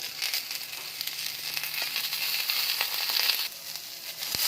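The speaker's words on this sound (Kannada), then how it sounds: "ಈರುಳ್ಳಿ ಹಾಕ್ಕೊಂಡು ಉರಿತಾ ಇದ್ದೀನಿ ಇವು ಸ್ವಲ್ಪ ಕೆಂಪಗಾಗೋವರೆಗೂ ಹುರ್ಕೋಬೇಕು" Chopped onions sizzle steadily in a hot pan while being fried for onion chutney, a continuous close crackling hiss with no voices.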